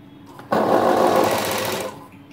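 A sewing machine stitching a blouse neckline makes a short, close, rapid mechanical whirr lasting under two seconds, starting sharply and trailing off.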